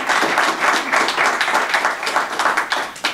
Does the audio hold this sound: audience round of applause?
yes